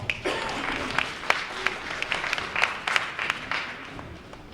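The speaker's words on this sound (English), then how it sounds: "Please give them a round of applause." Scattered clapping from a small crowd at a Black History Month celebration, a steady wash of claps with a few sharper hand slaps standing out.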